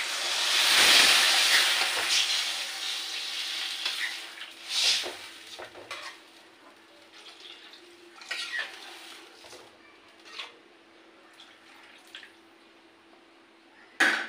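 Water poured into a hot pan of banana curry with green chillies, a loud hissing burst at first that fades into softer bubbling, with occasional clinks of utensils against the pan.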